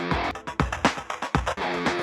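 The electronic intro of a metalcore song pulses in loud, choppy rhythmic bursts of dense synthesized sound with deep low thumps, cutting in and out on a fast beat.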